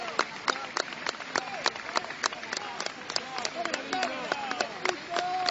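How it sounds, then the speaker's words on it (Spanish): Mourners at a wake in Argentina break into applause, a sustained wave of scattered, overlapping claps from a moderate crowd, fairly close, with some murmuring voices underneath. "ahora se tapa con estos aplausos de la gente y de todos los que se han acercado a este velatorio"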